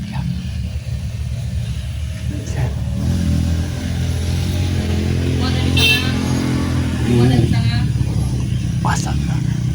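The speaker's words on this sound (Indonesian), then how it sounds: "Nah, motor lagi nih." A motorcycle rides past on a rural path between banana and oil palm plantations in Lampung, its engine rumbling steadily and swelling slightly as it nears, mixed with outdoor ambience.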